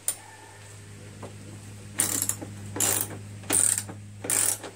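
Ratchet wrench with a 3/8 socket backing bolts out of a single-stage MTD Yard Man snow blower: four short bursts of rapid clicking, close and loud, separated by brief pauses over a low steady hum.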